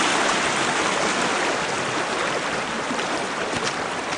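A creek flows steadily as a broad, even rush of running water that stays loud and constant throughout, with no talking.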